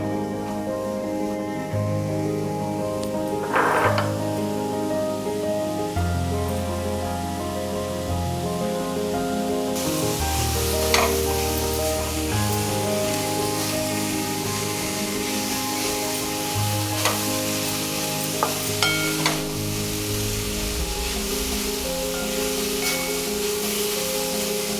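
Grated raw green mango roasts in a pan for a jaggery gulamba, giving a steady close sizzle with occasional scraping stirs, and no voices.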